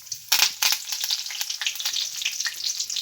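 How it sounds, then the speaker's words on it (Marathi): Mustard seeds and cumin sizzling and crackling in hot oil in a pan, bright popping bursts over a steady fry, close and fairly loud with no talk. "तेल गरम करून मोहरी घातली आहे त्यामध्ये, म्हणजेच राई."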